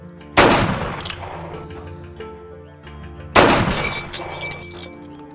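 Gunfire shatters glass bottles in a scene from an action film. Two loud, close blasts about three seconds apart each burst into crashing, tinkling glass that rings out and fades.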